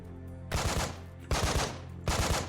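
Gunfire in the tactical video game Breach and Clear: three loud, close bursts of rapid automatic fire, each about half a second long, spaced evenly apart with brief pauses between.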